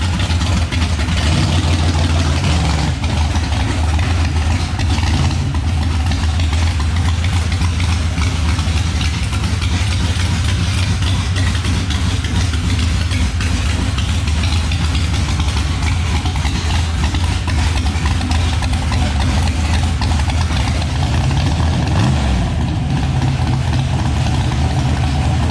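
A turbocharged LS car engine idles steadily and loudly at close range, its deep rumbling turbo exhaust droning without a break the whole time.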